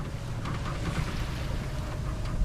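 A sailboat runs under its head sail in the wind, with a steady, full rush of wind and water noise that stays even and continuous throughout, with no voices.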